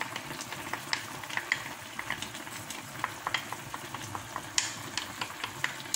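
Adobong paa ng manok with tausi is stirred in a pan, a steady sizzle and bubbling with scattered light clinks and scrapes of the utensil, close and continuous with no talk.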